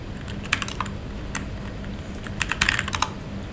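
Rapid keystrokes on a computer keyboard while working in the nano text editor, arriving in two close, crisp bursts of clicks with a short lull between them.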